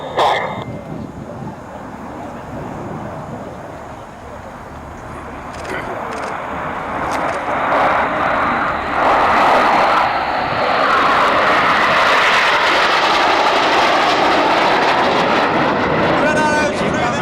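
RAF Red Arrows jets fly past at the RIAT airshow, with a broad engine roar that swells over several seconds and stays loud and sustained, while a commentator talks over the public address.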